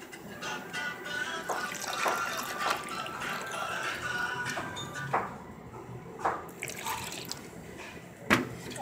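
Milk poured into a strawberry smoothie mix with sugar and a splash of vanilla, a steady faint liquid trickle with several brief drips and splashes, recorded close in a kitchen.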